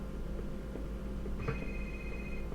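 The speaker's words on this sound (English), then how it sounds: "Text message has arrived on my cell phone" A cell phone text message alert in The X-Files video game sounds as one sustained electronic tone lasting about a second over a low, steady background hum.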